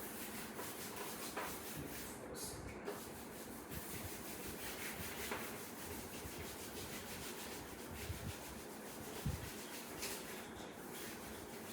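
Rubbing writing off a classroom board makes a quiet, continuous scrubbing with occasional soft knocks and faint squeaks, heard alone.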